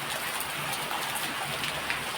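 Heavy rain pours down at a farm home, with water running off the roof eaves. It makes a dense, steady hiss of downpour that stays constant throughout, with no voices.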